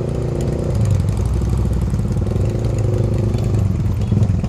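A motorcycle engine hums steadily at a mid pitch while riding at night on the road up to Puncak, Bogor, with a constant throaty drone and slight surges, no talk.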